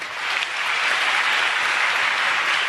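Audience applause at a Hindu religious discourse gathering: a dense, steady wash of many hands clapping that sustains loudly and evenly throughout, with no talking.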